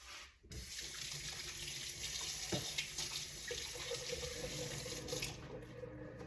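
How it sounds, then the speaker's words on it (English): Hands being washed under a running kitchen tap, a steady close hiss of water splashing into the sink, starting abruptly and running continuously until near the end. "Let me wash my hands."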